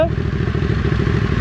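Exhaust popping from a Ducati or BMW R1200GS motorcycle at night, a close, loud run of rapid crackling pops over the engine's rumble, lasting the whole brief moment.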